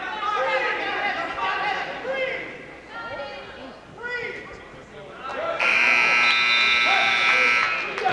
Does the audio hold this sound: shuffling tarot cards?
no